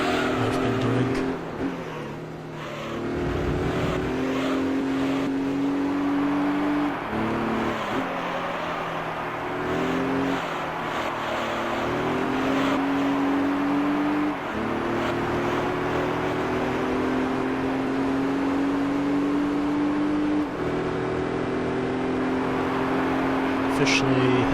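A front-wheel-drive race car engine in Gran Turismo 3 on the Apricot Hill Reverse track drones steadily, its pitch rising and dropping through gear changes, with someone talking over it.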